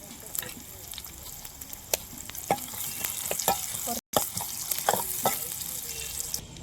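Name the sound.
chopped onion frying in oil for fish curry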